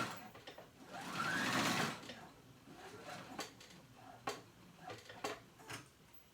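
A sewing machine top stitching a jacket that converts into a backpack, with a fast whirring run of stitches followed by softer mechanical clicks and taps as the fabric is handled. No one speaks.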